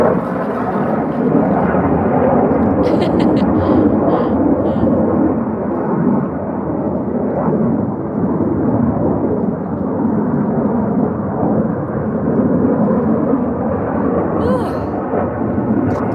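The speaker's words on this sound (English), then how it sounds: "Oh, there's a plane going across." An airplane passes overhead in Las Vegas, a loud, continuous roaring rumble that fills the whole stretch without letting up.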